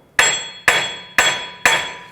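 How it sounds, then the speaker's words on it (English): A hammer strikes the back of a steel wheel hub flange on a 2009-2015 Honda Pilot front knuckle, four sharp ringing metallic blows at an even, unhurried pace, close and loud with no talk. "You can either whack on the back side of the flange here with a hammer"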